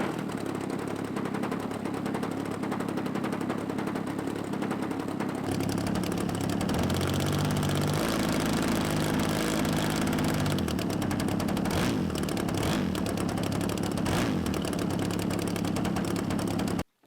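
A model aircraft engine runs steadily and loudly up close, with a harsh, rapid buzzing drone that shifts pitch partway through as the throttle changes, with no voices.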